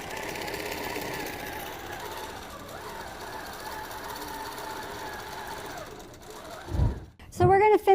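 A computerized quilting machine stitching a row across a quilt, a steady fast mechanical stitching drone for about six seconds, then stopping as a person starts talking.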